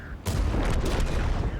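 A tank's main gun fires in the video game World of Tanks: one sudden, loud blast followed by a rumbling, sustained roar of battle.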